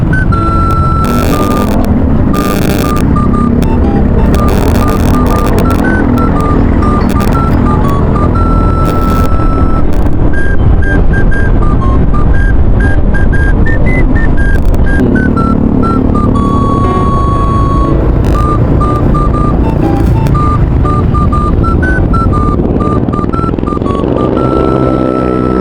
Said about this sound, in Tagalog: Traffic ah.